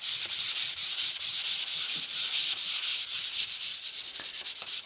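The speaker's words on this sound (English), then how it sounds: "lightly denib the surface by going over the surface with the sandpaper, P180 or P240" P180 sandpaper lightly denibs a coated wood surface along the grain in quick, even back-and-forth strokes, a close, steady rhythmic rasp with no talking.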